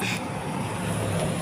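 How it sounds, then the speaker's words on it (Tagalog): A passing vehicle on an outdoor road, a moderate engine and road rumble under a faint background, steady over a brief moment. "Ayan, may dumaang sasakyan."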